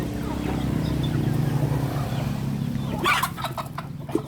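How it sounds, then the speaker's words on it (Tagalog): Chicks squabbling and clucking among a flock of chickens, a steady busy din of small calls close by, with a burst of sharper scuffling near the end. "Mga sisiw nag-aaway."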